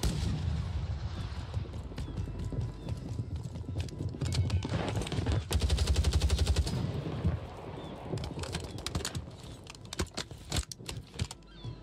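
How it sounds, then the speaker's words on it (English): Video game gunfire: rapid bursts of shots and clattering mechanical rattles over a noisy battlefield, building to a dense loud volley midway before scattered sharper shots follow. "Taking effective fire!"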